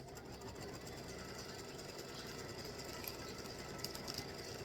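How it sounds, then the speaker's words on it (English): A sewing machine stitches cotton fabric in a steady, fast, even whirring hum that runs continuously at low volume, with faint ticks near the end and no speech. "So I'm just letting it stitch."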